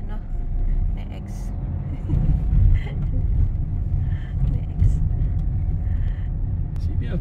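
Inside a moving car, a steady low engine and road rumble fills the cabin with occasional bumps and swells, while people talk quietly through much of it.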